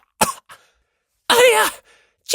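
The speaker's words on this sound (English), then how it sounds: "Hinata coughed up black smoke." A person coughs in short bursts: a brief cough, a faint follow-up, then a longer harsh throat-clearing cough, with quiet gaps between, close and alone.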